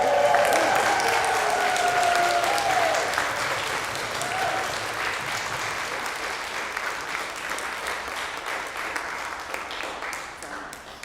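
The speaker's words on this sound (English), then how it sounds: "Let us create some ruckus applause in" A church congregation at a Sunday service applauds in welcome, loud and dense at first, then thinning to scattered claps, with voices audible underneath early on.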